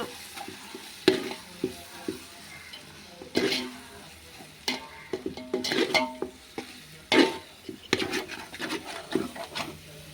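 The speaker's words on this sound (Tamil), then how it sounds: "இப்போ வதக்கணும்." Biryani masala with yogurt is sautéed in a pan for seeraga samba rice biryani, a spatula scraping and stirring in irregular strokes over a soft, steady frying sizzle, close and moderately loud, with no talking.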